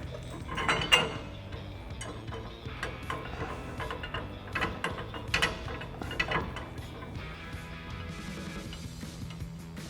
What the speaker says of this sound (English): take a 19mm socket to start tightening down our nuts.